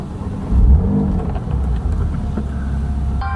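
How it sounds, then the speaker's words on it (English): A car engine rumbles steadily at close range, rising briefly in a rev around the start and then settling into an even idle, low and full, with no talk over it. "From the sound of the engine starting, can you guys guess what car we have now?"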